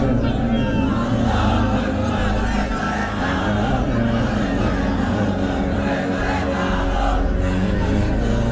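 A large crowd roars and shouts continuously in a loud, dense wall of voices, with a steady rally-like chanting drone and no clear pauses.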